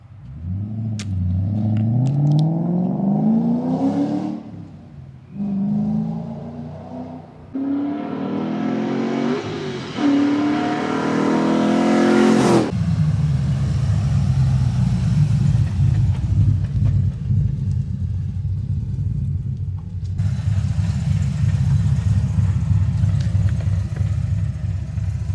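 A car engine revs up repeatedly in rising surges, then settles into a loud, steady rumbling drone as it cruises.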